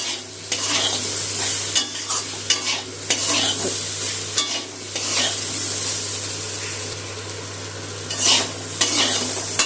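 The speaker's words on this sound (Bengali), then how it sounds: "এখন এই গুঁড়ো মশলাটা আলু পেঁপের সাথে একটু কষিয়ে নেব।" Ground spices stir-fried with potato and papaya in a pan over low heat, a steady close sizzle with frequent scraping strokes of a spatula.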